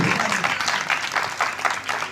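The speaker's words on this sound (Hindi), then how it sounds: "आपकी जोरदार ताली होनी चाहिए, जोरदार ताली।" An audience at an open program in Kasur claps loudly, a close, full burst of many hands with slight pulsing swells across its short length.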